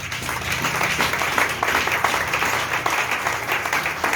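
A church congregation applauds and cheers in a steady, dense wash of clapping that holds for several seconds, loud and continuous with a faint crowd murmur underneath.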